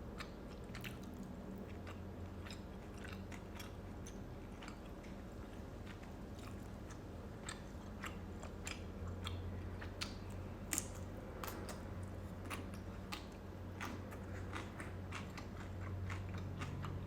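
Someone chews rabokki and Korean black bean noodles close to the mic, with soft, repeated wet bites and squishy slurping textures over a quiet background.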